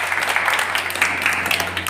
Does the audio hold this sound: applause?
yes